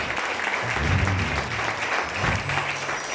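A church congregation claps together, a dense, steady wash of applause heard at moderate distance, with a faint voice rising briefly under the clapping.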